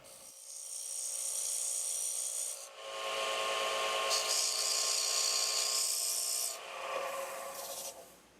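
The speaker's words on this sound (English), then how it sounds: "We use the Easy Detailer to put a taper on the tenon to match the jaws on our chuck." Easy Detailer woodturning tool cutting a taper on a wooden bowl tenon on a lathe, a steady close rasping scrape running nearly continuously with two brief dips where the cut pauses, no talk.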